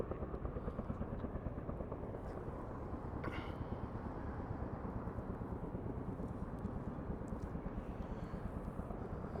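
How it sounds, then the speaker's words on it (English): A helicopter near a Las Vegas construction site gives a steady rapid rotor chop, with gusts of wind buffeting the microphone. "Nice looking chopper."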